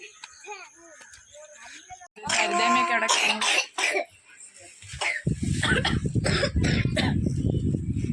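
A cough bursts out amid loud, overlapping voices, with clattering and shuffling noise filling the second half.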